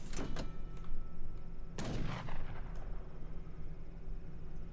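Mortars firing in Age of Empires III: two sharp booming blasts, the first near the start and a heavier one around the middle, each trailing off into a rumbling decay over a steady low game hum.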